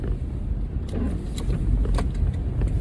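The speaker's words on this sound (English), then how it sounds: "This is rush hour traffic in the rain." Rush hour highway traffic in the rain heard from inside a car heading from DC to Baltimore, a steady loud roar of tires on wet pavement and road hiss, with no talking.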